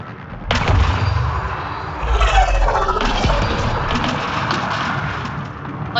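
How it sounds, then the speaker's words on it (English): Heavy gunfire and explosive blasts in the video game Mass Effect Andromeda, sharp impacts over a rumbling, booming battle din that swells and lingers, loud and close. "Incoming fire!"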